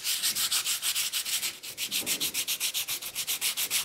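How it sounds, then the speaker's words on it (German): Rhythmic back-and-forth sanding of the first cured carbon fiber layer on a leg prosthesis, steady close hand strokes about five per second with a brief pause midway, no talk. "Diese erste Carbonschicht schleift er an, damit die zweite, feinere Lage Carbon später besser haftet."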